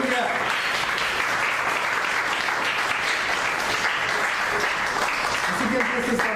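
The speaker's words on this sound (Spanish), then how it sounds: "Dar una ofrenda de palmas a él." A church congregation claps together during a Spanish-language sermon, a loud, dense, continuous burst of applause with voices mixed in underneath.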